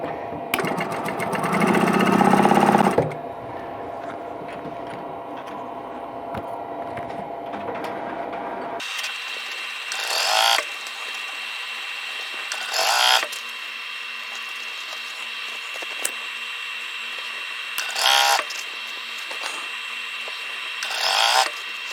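A sewing machine stitches quilt block pieces. One loud run of stitching gives way to quieter whirring, then several short, rapid bursts of needle chatter separated by pauses.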